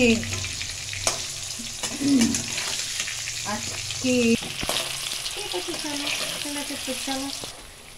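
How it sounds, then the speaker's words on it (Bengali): Potatoes fry in a pan with steady sizzling and occasional stirring, with someone talking over it now and then. "দেখো আলু ভাজা হচ্ছে"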